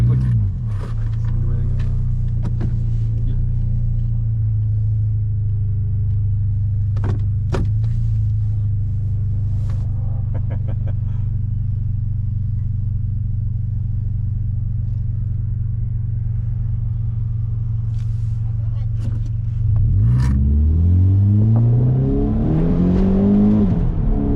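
A car engine drones low and steady on an autocross course, with occasional clicks, then revs up hard near the end as the car accelerates at full throttle.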